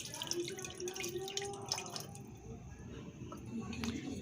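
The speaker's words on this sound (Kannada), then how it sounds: "ಸೋಸ್ತಾ ಇದ್ದೀನಿ" Homemade hair oil strained through a cloth or sieve drips and trickles softly into a container, faint wet patters at close range, with light background noise.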